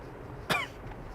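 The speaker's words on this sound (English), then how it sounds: "Sorry about the cough, guys." A single sharp cough from a person indoors, brief and fairly loud against a quiet room background.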